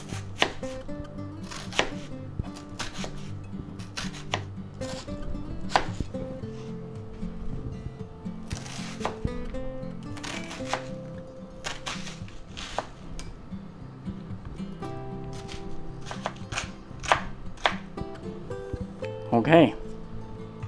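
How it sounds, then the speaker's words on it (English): A knife chops half a yellow onion on a cutting board, with sharp, irregular cuts in quick bursts and pauses over about twenty seconds under background music. "now we're going to use a half of a yellow onion here, and we're going to cut that up"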